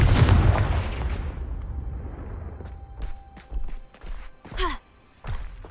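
A Confringo blasting spell explodes in the Hogwarts Legacy video game, opening with a loud, broad burst that decays into a rumbling tail, followed by several short sharp bursts and effects.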